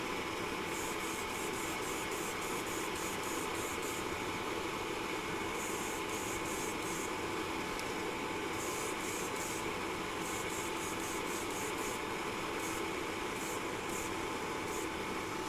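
An airbrush sprays Vallejo pearl and violet colour shift paint, a steady hiss broken by short bursts of sharper spraying that start and stop several times.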